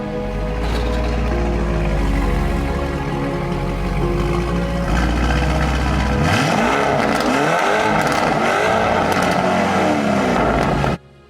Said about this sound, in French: L'Urus prend la route pour la première fois depuis l'accident. Ça ne ressemble peut-être pas encore à une Urus, mais au moins elle roule.